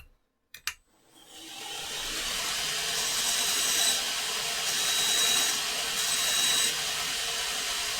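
A bench grinder or belt sander rounds off the edge of an engine valve stem during a valve job, starting with a few brief knocks and then a steady loud whir of the abrasive against metal, with faint high whines rising and falling.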